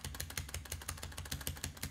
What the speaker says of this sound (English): My keyboard's a little loud.